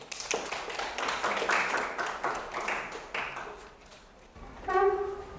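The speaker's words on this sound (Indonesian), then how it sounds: "Ya, boleh tepuk tangan untuk kelompok 1" A class claps for a presenting student group in a Catholic religious education lesson, a burst of many hands clapping that thins and fades out, followed by a voice.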